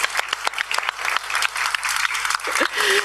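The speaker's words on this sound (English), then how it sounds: "Let's have now a round of applause." An audience at a youth food lab finals bursts into sustained applause, dense clapping filling the room steadily from start to finish.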